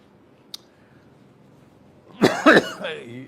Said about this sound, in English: You'll have to excuse me, my cough